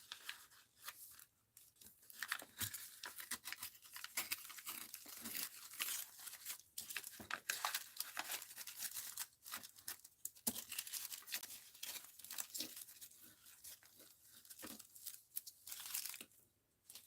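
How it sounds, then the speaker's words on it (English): Crunchy paper sheets for art-journal folios being torn and crinkled up close, a steady stretch of dry crackling, ripping and crumpling that rises and falls in loudness over about seventeen seconds, with no talking. "Crunchy papers."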